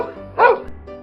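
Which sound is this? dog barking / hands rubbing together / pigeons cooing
dog barking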